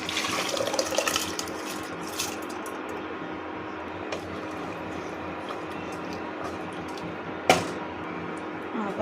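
Water is poured from a cup into rice in a cooking pot for vegetable pulao, a short splashing gush at the start that fades into quiet kitchen background with a few small clinks.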